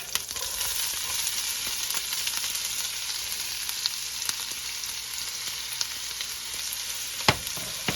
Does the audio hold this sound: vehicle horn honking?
no